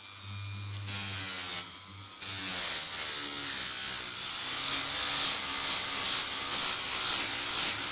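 A straight grinder with an abrasive wheel buzzes against the rusty flat surface of a Jaguar S-Type differential at its slowest speed, with a brief pause and restart before a steady, hissing grind continues up close.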